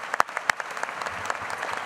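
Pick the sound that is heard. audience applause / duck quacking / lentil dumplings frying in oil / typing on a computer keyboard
audience applause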